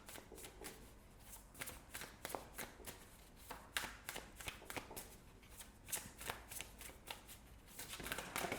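Oracle cards being shuffled by hand at close range: a steady run of crisp riffling and flicking bursts, repeated quickly over and over, with no talking.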